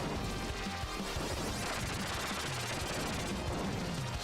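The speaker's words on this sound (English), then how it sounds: "That is the missile weapon." Missile weapon firing in the side-scrolling shooter game Earthion, a dense, continuous crackling barrage of rapid blasts that stays loud and steady throughout, layered over busy game music with no talking.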